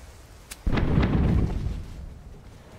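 A pirate ship's cannon fires in Tortuga: A Pirate's Tale with a single sudden, heavy boom after a small click, close and loud, rumbling and fading over a couple of seconds.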